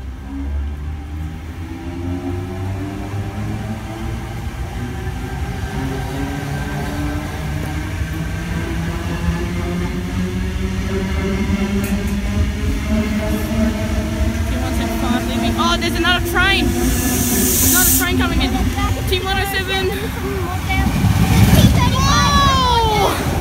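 A train pulls out of Janalli station, a deepening rumble and rising whine of its motors building steadily over the track, while children and other people chatter and call out nearby throughout.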